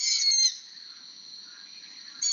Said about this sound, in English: this is a long-eared owl chick, and this is the sound that we're listening for, which is the long-eared owl calling